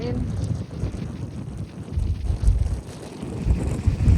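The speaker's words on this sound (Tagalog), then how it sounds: "sa sobrang lakas ng hangin" Strong gusty wind at Dolomite Beach on Manila Bay buffets the microphone with low rumbling roars that swell and fade, a voice faintly under the blustering.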